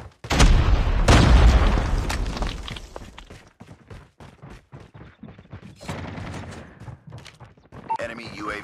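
A grenade goes off in Call of Duty Mobile with a loud, booming blast that rumbles for about two seconds, followed by scattered sharp gunshots and quieter battle noise.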